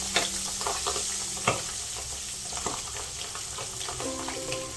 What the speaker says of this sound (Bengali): কিভাবে ফাটছে দেখেছেন?